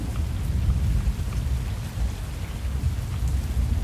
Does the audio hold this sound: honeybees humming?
no